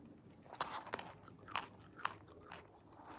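Pumpkin seeds chewed close to the mouth: soft, irregular crunches and wet chewing over a few seconds. The bites are quiet and muffled rather than sharply crisp.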